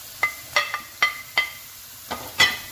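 Green beans frying in a pan for a tinned-fish curry, with a run of short crackling pops and stirring scrapes spaced at an uneven rhythm, close and moderately loud with no talk.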